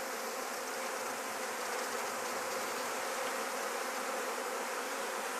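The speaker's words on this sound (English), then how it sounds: "I'll just shake off the bees" Honey bee workers buzz steadily around a queen cage, a dense, even drone of many wings that stays close and constant throughout with no voices.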